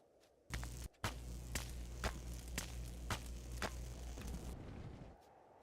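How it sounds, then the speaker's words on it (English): Footsteps in the sci-fi survival game Empyrion - Galactic Survival: a steady series of about eight heavy thudding steps at an even walking pace, close and clear over a low ambient hum. "Thought I heard footsteps."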